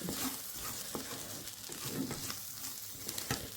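Turmeric and garam masala being stirred in a pan for a chickpea curry: continuous close sizzling and frying with spoon-scraping stirs, steady and moderately loud, no talking.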